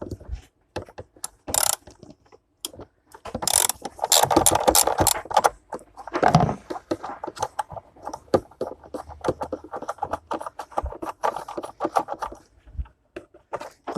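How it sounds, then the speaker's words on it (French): A large ratchet with a 13 mm socket loosening a bolt behind a car battery on an Audi A3 TDI, giving bursts of rapid close clicking that start and stop across the clip, with a few clunks of metal. "on va venir dévisser la vis de 13 qui est juste là derrière"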